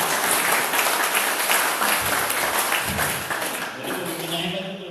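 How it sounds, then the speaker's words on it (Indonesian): Audience applause at a Qur'an recitation motivational talk: a dense, steady wash of many hands clapping for about five seconds, easing slightly near the end as voices murmur. "Tepuk tangan dong."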